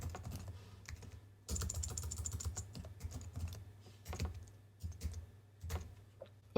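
A password being typed on a computer keyboard as soft, close keystrokes in quick, uneven bursts with brief pauses, fairly quiet overall.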